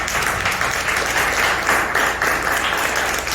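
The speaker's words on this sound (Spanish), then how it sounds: "Denle un aplauso al Señor." A church congregation applauds during a Spanish-language sermon, a loud, steady wash of many hands clapping together with no pause.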